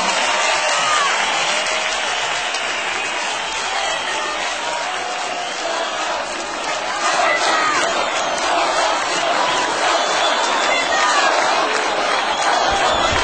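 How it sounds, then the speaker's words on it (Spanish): Large concert crowd applauding and cheering for a Chilean band at their 50-year anniversary show, a dense, loud, sustained roar of clapping and shouts with no gap. "Más fuerte ese aplauso para este matrimonio chileno"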